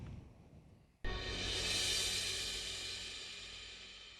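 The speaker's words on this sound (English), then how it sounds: "That's all it is, a cymbal swell" A cymbal swell rises abruptly and washes out with a bright, sustained shimmer that slowly fades over a few seconds, with no voices.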